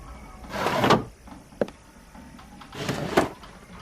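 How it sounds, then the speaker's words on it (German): An unlocked wooden drawer slides open in the game Black Sails: two scraping slides about two seconds apart, each ending in a soft thump, with a small click between them, close and clear. "Ich habe die Schublade aufgeschlossen."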